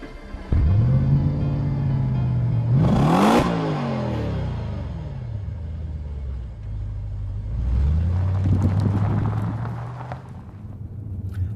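A 2010 Audi RS5 engine in dynamic mode revs loudly and climbs through gears, with a sharp rev blip midway and a second surge of acceleration later, heard close from inside the car.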